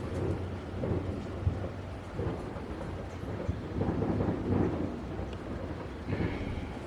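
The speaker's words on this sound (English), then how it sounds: "There's a whole lot of fireworks going on." Fireworks go off outside during a Diwali celebration, heard as a low, continuous distant rumble with soft thuds and crackles. The sound is muffled, as if heard from indoors.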